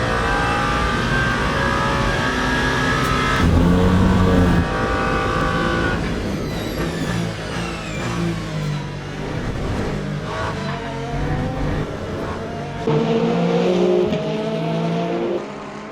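Race cars at the 24 Hours of Le Mans in the Le Mans Ultimate racing game, engines roaring and revving continuously, with loud passes and shifting pitch as cars speed by.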